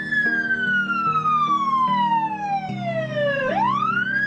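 A police car siren wails close and loud, a long descending sweep that snaps back upward, with rhythmic engine or horn tones pulsing underneath.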